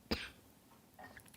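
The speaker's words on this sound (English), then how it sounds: "I'm just going to cough through the whole video, apparently." A single sharp cough near the start, followed by quiet rustling and a faint breathy sound.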